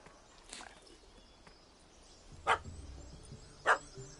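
A dog barks in The Witcher 3: Blood and Wine, two sharp, fairly close barks spaced about a second apart over a soft ambient game background, with no talking.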